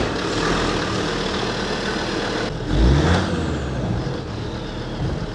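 A vehicle engine cranks into life and revs, a steady mid-range rumble swelling briefly before settling into a loud, close idle with no voices.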